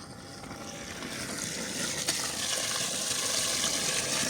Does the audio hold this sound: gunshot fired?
no